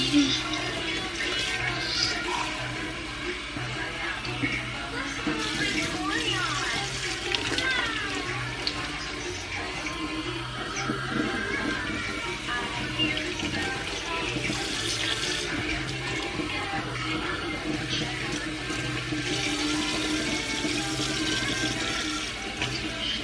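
Bathwater runs steadily from a tap while a child is washed in the tub, a continuous close splashing rush with small sloshes and occasional voices mixed in.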